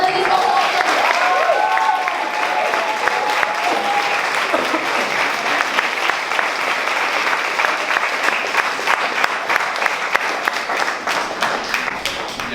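Loud, sustained applause from a talent show crowd, thick continuous clapping with a few voices and cheers mixed in near the start, lasting over twelve seconds.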